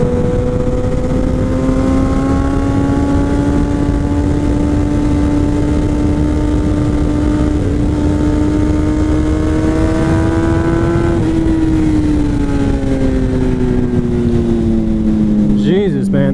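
A Kawasaki ZX10R motorcycle engine drones loud and close throughout the ride, holding a steady high pitch that rises slightly as it revs and then drops off near the end, under constant wind rush.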